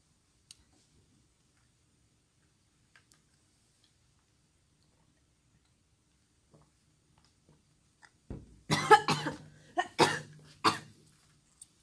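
A burst of several coughs close by while eating, coming in quick clusters after a long near-silent stretch with faint small clicks.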